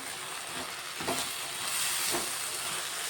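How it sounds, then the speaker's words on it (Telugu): Red lentil dal fries in oil in a pan, a soft steady sizzle with a couple of quiet stirring scrapes, heard faint and close. "ఇదిగోండి పప్పు అయితే ఒకసారి కలిపేసుకుంటున్నా"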